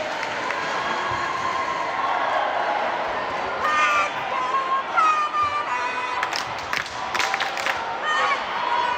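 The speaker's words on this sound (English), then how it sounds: "Big applause to Xander." Crowd at a dodgeball world championship tournament cheering and applauding, a steady roar of many voices with sharper shouts and whistles rising toward the end, a voice talking over it.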